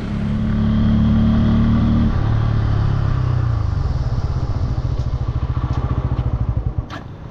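A Bajaj Pulsar N160 motorcycle rides through city streets, its engine droning loudly up close before the pitch shifts and settles into a rhythmic, pulsing idle-like beat.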